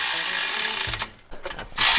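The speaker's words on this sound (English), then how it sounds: "That's the sound of a motor being tightened in." A ratchet wrench clicks in short bursts while tightening bolts on a golf cart's Harbor Freight Predator V-Twin motor, close by with a brief pause between runs.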